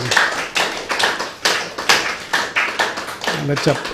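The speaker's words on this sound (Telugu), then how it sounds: "బుద్ధుల వారికి ఒకసారి గట్టి క్లాప్స్" Audience applause at a spiritual talk on the Buddha's eightfold path, a steady run of clapping swells lasting the whole stretch, moderately loud and close, with the crowd's hand claps dense and continuous.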